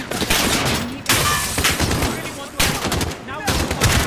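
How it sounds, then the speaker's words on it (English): Rapid gunfire bursts from the video game Call of Duty Modern Warfare, dense automatic shooting that rattles almost continuously with brief pauses between volleys, loud and close. "Who's shooting?"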